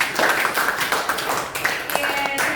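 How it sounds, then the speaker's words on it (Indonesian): Clapping from children at a constitutional rights outreach session in an orphanage: brisk, fairly loud group applause, thinning toward the end as a voice and a faint tone come in. "Beri tepuk tangan dong"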